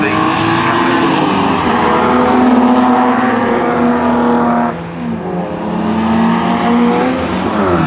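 Jaguar XJS race cars roar around the Mallory Park circuit during a race, their engines loud and sustained with shifting revs and a pass-by swell partway through.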